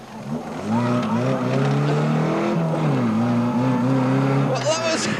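Stunt car accelerating away with a loud, steady engine roar that rises and shifts pitch, a person's voice audible over it, ending in a sharper burst of noise.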